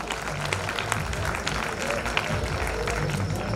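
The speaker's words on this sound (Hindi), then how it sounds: "ताली बजा दो यार।" Audience applause for a prize winner at an awards ceremony: steady scattered clapping from a crowd, moderately quiet, with voices talking over it.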